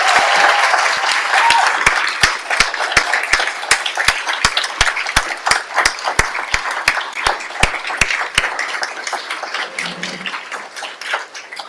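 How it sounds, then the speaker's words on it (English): Applause at a university honors college graduation ceremony for faculty advisors, a large crowd clapping steadily with sharp distinct claps up front, gradually thinning out toward the end. "please stand and let's applaud these faculty for their incredible dedication to our students"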